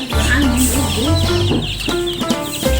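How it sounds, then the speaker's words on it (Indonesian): Young chickens cluck and peep close by while a small family plays with and feeds them, the bird calls mixed with children's and adults' voices speaking throughout. "Ini ayam."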